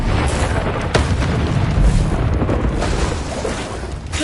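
A spell effect in a Hogwarts wizarding video game, a loud rumbling whoosh and boom of magic energy filling the scene continuously, with dense bursts and crackles layered through.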